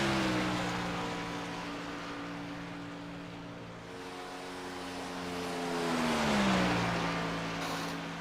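A race car on a qualifying lap at Charlotte drones past at a distance, its engine note falling and then rising and swelling louder through the turn before easing off again, with a commentator talking over it.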